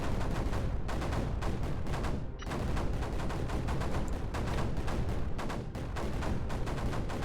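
Mortars in the strategy game Creeper World 4 fire steadily at creeper, a dense, rapid barrage of booming shots that continues almost without pause, loud and close, with no talking.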